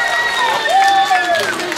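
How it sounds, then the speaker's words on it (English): Crowd applause and cheering for children at a live concert show, a dense clapping wash with a high whistle or shout tone gliding across it. "Can you give these fabulous children one more big round of applause?"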